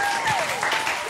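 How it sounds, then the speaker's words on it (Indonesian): Brief burst of applause in a talk show studio, dense clapping from an audience, with a voice briefly audible over it. "Wow, tepuk tangan lu dong buat Miss Wow"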